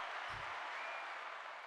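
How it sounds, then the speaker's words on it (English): A soundboard crowd-applause effect: a dense, steady wash of clapping and crowd noise at moderate level that holds evenly from start to finish with no voices on top. "That was a very well-deserved crowd applause."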